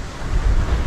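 Small waves wash against a shoreline while a boat is out on the water, a loud, steady low surge mixed with heavy wind buffeting.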